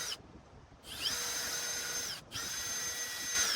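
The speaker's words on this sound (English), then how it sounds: "This one, we're just gonna have to drill." A power drill bores into a stuck piston in a Toyota 2ZZ engine, whining steadily in two close, loud bursts separated by a brief stop, with short pauses before and between.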